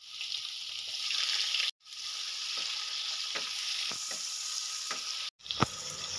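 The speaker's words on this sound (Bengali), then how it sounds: "এবার তেলের মধ্যে দিয়ে দেবো পেঁয়াজ।" Sliced onions hit hot oil in a pan, giving a loud, continuous close-up sizzle broken by two brief gaps, with light stirring scrapes and a soft tap near the end.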